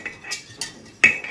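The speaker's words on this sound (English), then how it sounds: "Waiting to use our wonderful whisk." A whisk clinks against the bowl while stirring a baking soda mixture, giving several short, bright metallic taps spaced roughly a third of a second apart, close and fairly clear.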